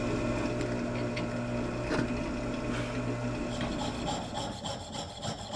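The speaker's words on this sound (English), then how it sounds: "I'm using a die grinder with these sanding flaps to basically go through and hollow out the shape or make it more concave." Die grinder with sanding flaps hollowing out a katana tsuba, a steady close abrasive rubbing and rasping drone with a continuous motor hum, and no talking.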